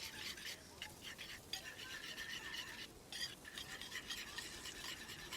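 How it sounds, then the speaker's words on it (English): A small whisk stirs a sauce together in a bowl during an outdoor Sunday barbecue lunch in Sydney, making steady, soft scraping and swishing strokes that carry on continuously at close range. "Little whisk, and just give it a whisk just to sort of bring that together"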